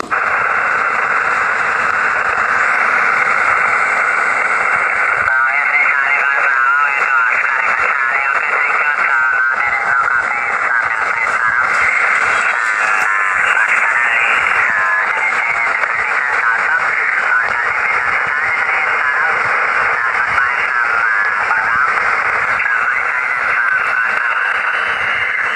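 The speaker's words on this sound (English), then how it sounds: "This is a dual band HF transceiver which I have homebrewed." A homebrewed dual band HF transceiver gives off loud, continuous band-limited static that holds steady for the whole stretch, with a rough, crackling texture and no breaks.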